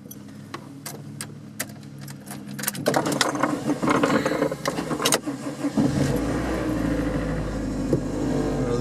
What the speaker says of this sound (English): I'm gonna go ahead and turn the car on